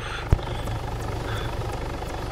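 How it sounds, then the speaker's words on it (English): In a video game, a helicopter's rotor gives off a steady, close engine thrum that goes on throughout, with one sharp thump near the start and no talking. "Okay, there are a couple of choppers in front of us."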